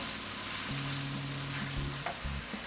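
Pork and vegetables sizzle steadily in a hot pan while being stirred, a continuous close frying hiss with soft scraping and no talking.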